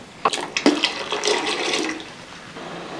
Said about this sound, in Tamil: இன்னும் கொஞ்சம் தண்ணி சேர்த்துக்கலாம் ரொம்ப கெட்டியாக இருக்குது